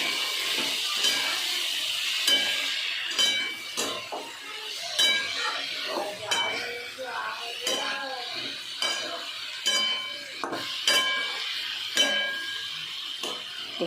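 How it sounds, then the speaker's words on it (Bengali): Potatoes frying in a pan as salt, turmeric, hot chili powder and Kashmiri chili powder are stirred in: repeated close metallic clinks and scrapes of a spoon against the pan over a faint, steady sizzle. "এরপর আমি নুন, হলুদ, ঝাল লঙ্কার গুঁড়ো, কাশ্মীরি মির্চ রঙের জন্য দিয়ে একটু নাড়াচাড়া করব।"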